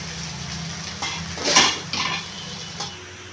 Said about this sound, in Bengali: অল্প সোয়া সস দিয়ে নেড়ে নেব।